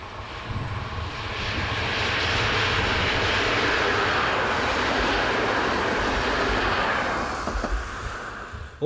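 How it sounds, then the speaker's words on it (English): An ETR 450 high-speed train set on a Roma to Taranto service passes near Metaponto, Italy, a broad rushing roar that swells within a second or two, holds loud and close for several seconds, then tapers away. "Almost catching the cameraman out is this ETR 450 high-speed train set, passing with a service from Roma to Taranto"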